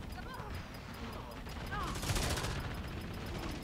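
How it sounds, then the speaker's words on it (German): Rapid bursts of gunfire from the game Lawbreakers crackle in the background, fairly faint, under a steady bed of game noise and ambience. "Ich hab schon Schüsse da hinten."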